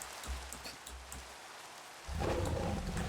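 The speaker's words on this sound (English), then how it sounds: "The rain is driving me crazy." Steady rain falls throughout, with scattered drops pattering at first before a louder, denser downpour takes over partway through and continues as a close, constant hiss.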